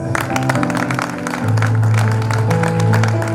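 A church congregation applauds the Lord, with a brief, fairly loud burst of clapping from many hands heard close by and mixed with musical tones.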